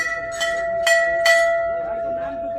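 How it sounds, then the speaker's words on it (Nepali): A bell rung by hand at the Ghantaghar clock tower during a crowded protest gathering, with three sharp bright strikes in steady succession and softer ringing trailing after, a steady tone and crowd noise underneath. "जगदीश खरेलले यतिखेर घण्टी बजाउँदै"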